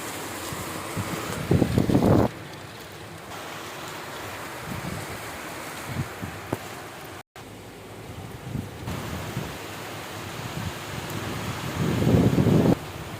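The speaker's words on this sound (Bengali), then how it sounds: "প্রবল ঝড়ও উঠেছে এদিকে" Strong storm wind roars and gusts through distant trees on the north side after heavy rain, a steady broadband rush that swells loudly near the start and again near the end, with no voices.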